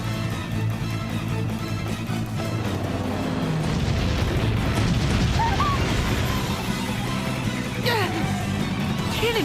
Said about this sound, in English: Cannon fire? This is madness!